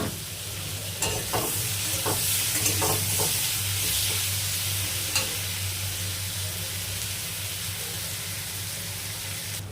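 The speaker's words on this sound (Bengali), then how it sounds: "এই যে পেঁয়াজগুলো ভাজা ভাজা হয়ে গেছে, তার সাথে আলুগুলো ভাজা ভাজা হয়ে গেছে।" Onions and potatoes with grated ginger and cumin fry in a pan, a steady close sizzle running throughout with a few brief stirring clicks and scrapes early on.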